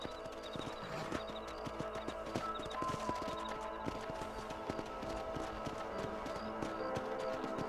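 Horse hooves gallop in the Xbox game Red Dead Redemption, a quick, steady clip-clop beat that runs throughout at moderate volume over faint background game sounds.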